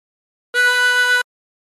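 A chromatic harmonica sounds one steady drawn note through hole 4, clean and close, lasting under a second and standing alone against silence.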